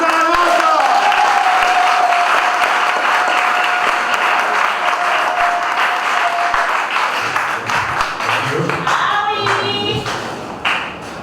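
Wedding guests applaud steadily and loudly throughout, a dense wash of clapping with voices mixed in, thinning toward the end as a voice rises over the fading claps.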